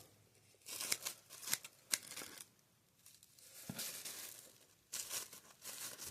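Petroleum-based plastic bags are crinkled and handled up close in bursts of sharp rustling and crackling, with quieter pauses between the handfuls.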